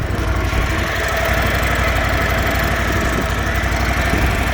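A commercial 48-inch Toro Z Master 5000 Series zero-turn lawn mower engine idles smoothly and steadily, with a close, even rumble and fine low pulsing throughout and no talking.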